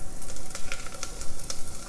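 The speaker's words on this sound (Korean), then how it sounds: "지금 카레를 만들고 한 솥 다 먹고 지금 다시 만듭니다" Curry cooking in a large pot at home, a steady loud sizzle with crackling pops and stirring scrapes, close and continuous with no talking.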